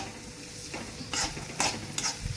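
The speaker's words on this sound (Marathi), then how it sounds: "आता मी त्याच्यात कांदा टाकून घेते पण कांदा आहे ना सारखा हलवत राहायचा तो जाळायला नाही पाहिजे कारण तेल खूप तापलेलं आहे ना आपलं" Onion sizzles in very hot oil while being stirred, a soft continuous frying hiss with a few brief louder scraping bursts from the spoon, fairly quiet overall.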